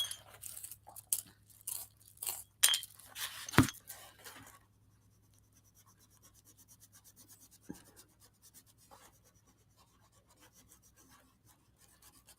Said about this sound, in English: Sharpening.